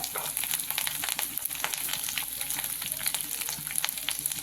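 Peanuts and curry leaves sizzle and crackle in hot oil for chitranna, a steady close frying hiss with dense popping and occasional stirring scrapes throughout.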